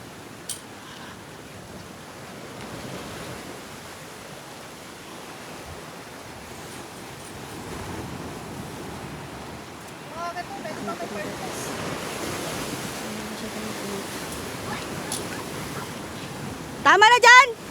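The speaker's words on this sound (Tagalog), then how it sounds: "Sobrang lakas ng alon." Strong sea waves surge and crash in rough weather, a broad steady roar of surf with wind buffeting the microphone and voices talking faintly underneath, ending in a louder burst.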